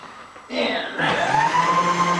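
A reamer running on a machine during a steady rest build, a motor whirring up and settling into a steady hum with a rising tone, loud and close.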